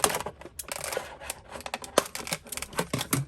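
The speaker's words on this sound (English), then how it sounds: "let's cut this tie around his waist" Scissors snip through the plastic tie holding a Marvel Toybox Winter Soldier figure inside its packaging, a run of sharp, close clicks and plastic crackles with brief pauses, with no talking.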